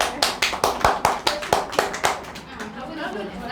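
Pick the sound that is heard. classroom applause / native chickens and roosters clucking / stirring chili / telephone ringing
classroom applause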